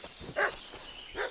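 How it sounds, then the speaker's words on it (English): A dog in the medieval game Kingdom Come: Deliverance II gives two short barks about a second apart, moderately distant and fairly faint over a quiet ambient background. "What's that dog making such a fuss about?"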